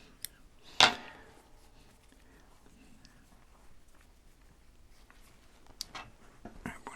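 Scissors snip through a length of ribbon for a folded fabric Christmas star, giving one sharp close cut near the start; afterward come faint handling rustles and a few soft clicks.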